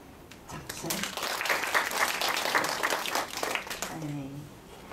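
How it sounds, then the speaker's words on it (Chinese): Audience applause in a classroom-style training session as a student volunteer is called up, steady clapping sustained through the whole stretch with a few voices mixed in. "来，掌声！"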